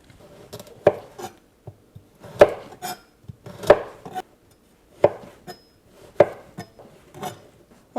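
A kitchen knife cutting scraped carrots into strips for shrimp lo mein, making sharp, separate chops against a cutting board at an irregular pace, close and clear, with no talking.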